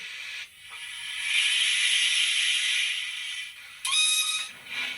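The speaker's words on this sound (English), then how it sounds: "There you go, whistle before you set off." A Hornby Locomotion No.1 model steam locomotive with HM7000 sound lets out a long hissing whistle, followed by a brief sharper whistle blast, close and fairly loud.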